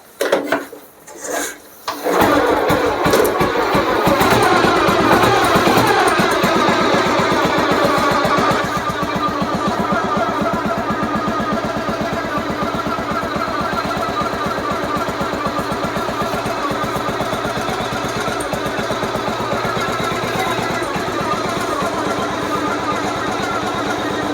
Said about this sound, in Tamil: ஸ்டார்ட் பண்ணி காட்டுறேன் பாருங்கள்